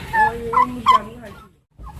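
A guinea fowl gives a few harsh, nasal calls in quick succession close by, then falls quiet.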